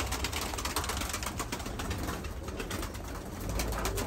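Samsun pigeons cooing inside a coop, layered soft coos and rustling close by over a steady noisy background.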